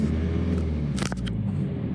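A diesel Audi A3 engine drones low and steady inside the car, with a brief rattle or click partway through, no talking.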